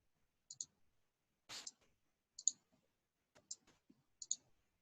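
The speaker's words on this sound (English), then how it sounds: "I'm going to click on that little line." Computer mouse clicks while working in a database program, sharp and close, mostly in quick pairs spaced about a second apart, with faint noise between them.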